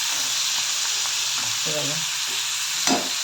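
Amaranth greens hitting hot oil in a pan, a steady close sizzle with scraping stirs and a brief louder clatter near the end; a faint voice murmurs underneath.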